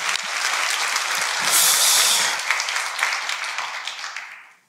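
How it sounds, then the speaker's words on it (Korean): A church congregation bursts into applause of thanks during a Korean sermon, a loud, dense crowd clapping that swells to a peak, then gradually thins and fades out toward the end. "우리 하나님께 감사와 영광의 박수를."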